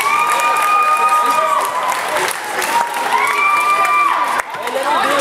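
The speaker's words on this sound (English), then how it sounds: "let's give a round of applause for both of these two boxers" A crowd at an amateur novice boxing bout applauds both fighters, with clapping mixed with cheering, shouts and high-pitched voices that rise and fall over several seconds.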